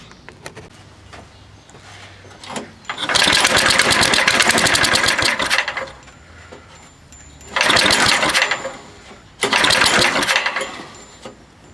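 A 1990s 7 hp Tecumseh small engine starting cold: loud close bursts of rough running, roughly three seconds, then a pause, followed by two shorter bursts as it fires and dies again.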